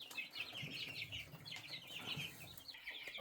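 Australorp hen with her brood of chicks, high peeping from the chicks running steadily over soft low clucking and rustling, close by and continuous.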